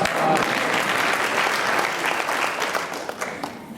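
Audience applause during a Paryushan religious discourse, a dense, sustained wash of clapping from a large crowd that holds steady and thins slightly toward the end.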